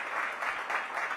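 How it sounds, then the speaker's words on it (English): A brief burst of steady audience applause at a formal public event, a dense wash of many hands clapping at moderate, slightly distant volume. "Give her a big round of applause."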